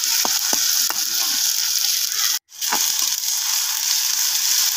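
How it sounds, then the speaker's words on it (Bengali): Green chillies fry in hot ghee with a steady, loud, close sizzle, a few light clicks of stirring near the start and a brief drop-out midway. "আর একটু ভাজা হলে আমি দিয়ে দিলাম ঘি, কাঁচা মরিচগুলো দিয়ে দিই ভাজা হওয়ার লেগে"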